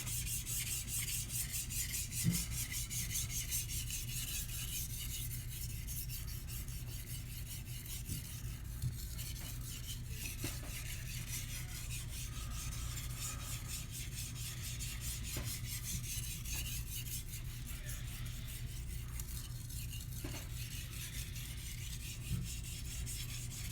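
A Japanese kitchen knife is drawn over a whetstone in long, continuous rubbing strokes, a faint, steady gritty scrape that carries on for over twenty seconds without talk.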